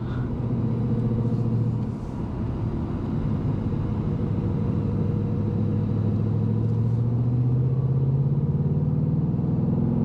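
Heard from the cabin, a 2024 Ford Mustang GT Premium is driven on a hot summer road, its engine droning at a steady low rumble that dips briefly, then climbs gradually in pitch as the car accelerates, loud and continuous.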